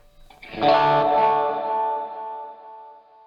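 A swelling, smeared tone rises in and then slowly fades away, a washed-out reverse-reverb effect with diffuse, lingering tail.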